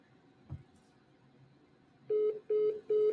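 Three evenly spaced, identical electronic beeps of a failing telephone call sound loud and clear after a quiet stretch with a faint knock.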